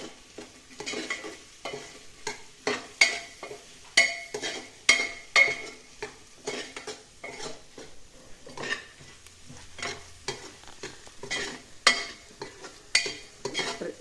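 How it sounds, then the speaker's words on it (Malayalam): Green chili, garlic, ginger and curry leaves sautéing in a pan for a beef curry, with a steady sizzle and repeated sharp scrapes and clinks of a spoon stirring against the metal, no talk. "പച്ചമുളകും വെളുത്തുള്ളി ഇഞ്ചി കറിവേപ്പില ചേർത്ത് എല്ലാം കൂടെ വഴറ്റണം."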